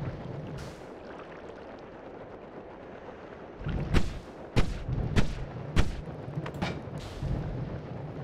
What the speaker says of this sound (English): Shoot 3 times at Levy now.